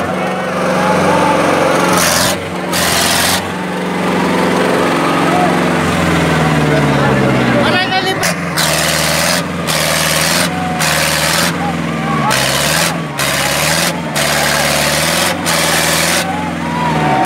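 Farmtrac 6055 tractor engine working in a field with a harrow, a loud continuous diesel drone that shifts pitch under load, overlaid with repeated bursts of rough noise.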